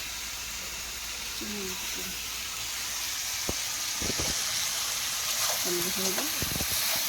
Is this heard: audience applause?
no